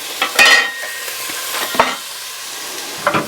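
Onion hits a hot pan with pork for New Mexico red chile carne adovada, sizzling in close bursts as a utensil stirs and scrapes, with a steady low frying hiss between the louder moments.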